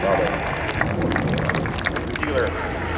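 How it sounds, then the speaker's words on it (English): Dense, steady applause from a large airshow crowd for the pilots of B-25 Mitchell bombers, loud and continuous throughout with scattered cheers mixed in. "How about a nice round of applause for all the pilots of all the B-25s?"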